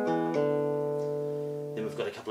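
Short acoustic guitar phrase from the Pernambuco piece Sons de Carrilhoes, with ringing bell-like notes and pull-offs to open strings, a few distinct note attacks sustaining together, close and moderately quiet, no talking.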